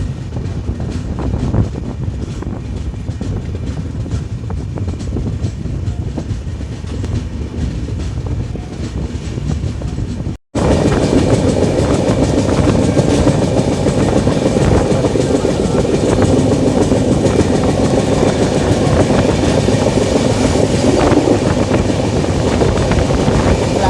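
The 12757 Kaghaznagar SF Express rolls on from Jammikunta toward Sirpur Kaghaznagar, a loud, steady rumble and clatter of wheels on rails heard from on board with wind buffeting, cutting briefly midway before resuming louder.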